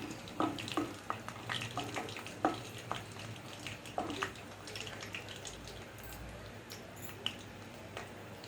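Ingredients for tamarind pulihora, including peanuts, are stirred as they fry in a pan, giving soft scraping strokes and light sizzling clicks at an irregular pace, close and fairly quiet.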